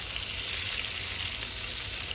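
Steady hissing sizzle of fermented fish (pla som) frying in hot oil in a pan, a constant crackling wash without pauses or voices.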